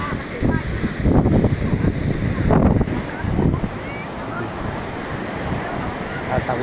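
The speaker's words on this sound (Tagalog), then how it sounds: "Ang lakas ng alon." Strong ocean waves surge and crash on a rocky shore at Patar, Bolinao, Pangasinan, heard as a continuous roaring wash with heavier bursts early on, mixed with gusty wind noise.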